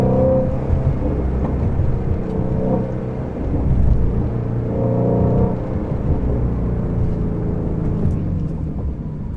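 A Ford Mustang GT350 V8 drones steadily from inside the cabin on a drive toward the highway, swelling slightly midway with no clear, distinct exhaust pops standing out.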